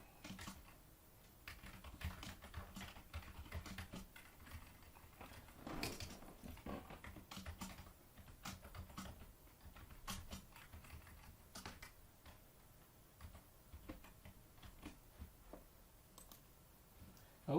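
A computer keyboard is typed on in short irregular runs of soft, faint clicks, heard alone at low level.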